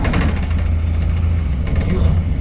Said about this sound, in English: We turn the ignition on. Wait for the glow plugs to do its job.